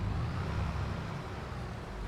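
Massey Ferguson tractor engine in Farming Simulator 22, a steady low drone holding even and moderately loud throughout, with no talk over it.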